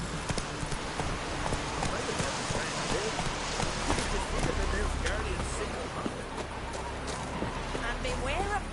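A horse gallops in The Witcher 3 with quick, rhythmic hoofbeats throughout, while voices talk over the running.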